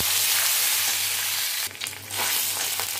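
Cumin, bay leaf and crushed ginger sizzle in hot oil with a bright continuous hiss, briefly surging into a louder spitting burst midway before settling back to a steady fry.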